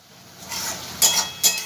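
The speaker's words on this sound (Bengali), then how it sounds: "এবার ভালো করে মশলাটা আমি কষিয়ে নেবো" Masala with kasuri methi frying in a pan as a spatula stirs it, a soft sizzle rising under two sharp metallic scrapes against the pan, close and alone.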